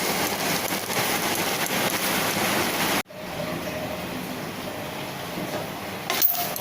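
Fox nuts and peanuts roast in ghee over a low flame with a dense, rain-like crackling patter. It cuts briefly midway, then carries on more softly, and a small clink sounds near the end.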